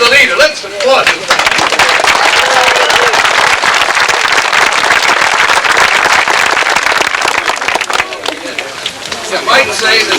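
A crowd at the 1983 groundbreaking ceremony for the John A. Walker Community Center bursts into loud, dense applause that sustains for several seconds, with voices and cheers mixed in before it tapers off.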